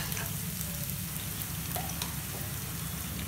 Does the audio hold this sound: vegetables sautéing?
yes